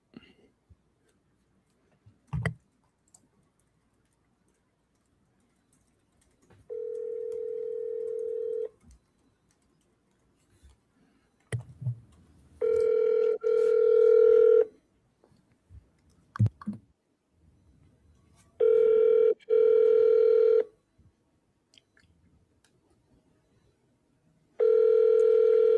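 Outgoing telephone call ringing, several evenly spaced ring tones separated by silence, with soft clicks and faint low talk in the gaps.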